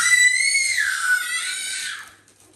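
A child screams loudly at home in a long, piercing, wavering cry that glides downward and fades at the end, heard alone with no talking.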